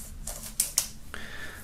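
Plastic film is peeled and torn off a boxed music album set, a few short crisp crackles and snaps followed by a lighter crinkling rustle, close and alone.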